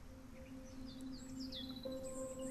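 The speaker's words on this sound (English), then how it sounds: "there's already bird sounds" In the video game Solarpunk, faint, quick bird chirps and short twittering calls come and go over a quiet, steady tonal backdrop.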